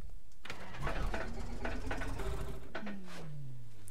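A simulated Cessna 182T piston engine in FSX cranks over on a start attempt with a steady mechanical chugging and whine that winds down toward the end, heard alone without talking.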